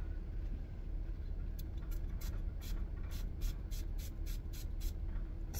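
Rapid short hissing sprays of a Lattafa Al Nashama Caprice perfume atomizer repeat about a dozen times in quick succession, close by, over a steady background rumble.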